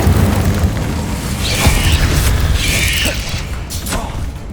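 Incendio fire spell cast in Hogwarts Legacy, a loud whooshing burst with booming impacts and crackling flame over a steady rumble of combat, no talk.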